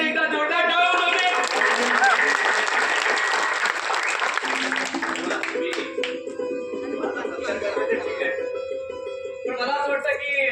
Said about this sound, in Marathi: तरी त्याच्यासाठी एकदा जोरदार टाळ्या वाजवा।